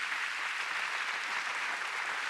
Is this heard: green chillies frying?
no